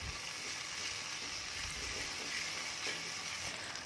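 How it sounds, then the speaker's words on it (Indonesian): Steady hissing sizzle from a hot pan as ingredients seasoned with powdered stock are stirred, with faint scraping underneath and no voices. "Lalu aduk sebentar"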